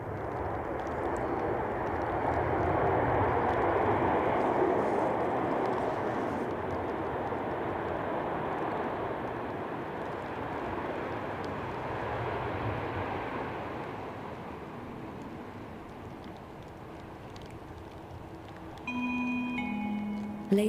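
Ryanair airliner landing at Manchester in stormy weather: a steady, moderately distant jet rumble that swells early then slowly fades, blended with wind, with a brief tonal sound near the end.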